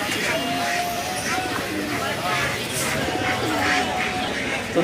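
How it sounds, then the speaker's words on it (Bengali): Soft cooing of pigeons at a busy bird and poultry market in Sirajdikhan, Munshiganj, mixed with crowd chatter and voices, continuous and fairly close. "ভাইয়ের কাছে ভালো কবুতর আছে"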